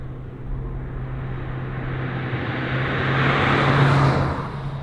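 A Skoda Scala hatchback with a 1.5 TSI engine and 7-speed DSG gearbox is driven, its engine drone and road rumble steady, then swelling louder near the end as it pulls harder, with no talking.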